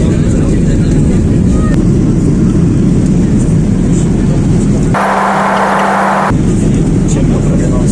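Boeing 787 Dreamliner cabin noise as a steady, loud broadband roar that runs throughout, briefly interrupted by a sharper tonal burst midway.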